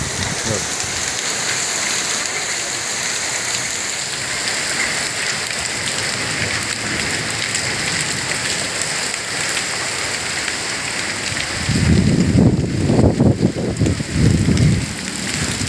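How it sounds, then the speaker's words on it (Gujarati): Steady, heavy rain with hail hisses throughout in Bhadravadi village, with a louder burst of rumbling, pattering hail impacts near the end. "કરા સાથે વરસાદ પડે છે ભદ્રાવડી ગામની અંદર"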